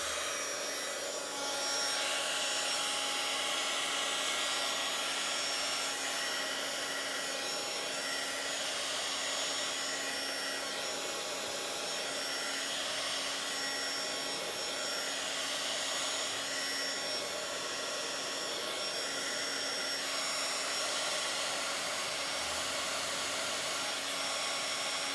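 A hand-held dryer blows steadily and loudly over a wet layer on a Bible journal page, a constant whirring rush that runs without a break for the whole stretch.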